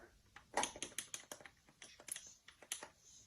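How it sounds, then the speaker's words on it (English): Joystick button on a CoCo computer clicking in a fast, irregular run of sharp taps, close and fairly clear, alone without talk. "I can hear the joystick button clicking away"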